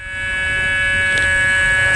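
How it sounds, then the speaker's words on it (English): An accelerator buzzer on a 23-passenger electric parking lot shuttle sounds as a steady, loud, continuous tone with no talk. "This is actually called an accelerator buzzer, very commonly found in the airport industry."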